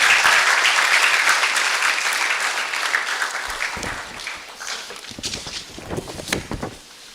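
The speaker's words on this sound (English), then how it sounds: "Let's welcome him with a hand of applause." An audience at a university freshers' orientation applauds to welcome a speaker, a loud burst of clapping that gradually fades into scattered, sparser claps.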